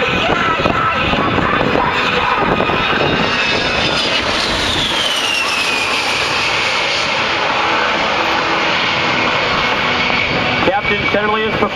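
A-10 Thunderbolt II jet roaring loudly and continuously at an airshow while performing rapid changes in direction, speed and altitude, its engine pitch sweeping as it passes, with an announcer talking over it.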